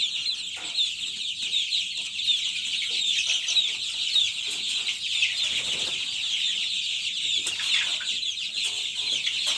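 A brood of 26-day-old chicks cheeps and clucks continuously, close by, a dense chorus of high peeping with no break.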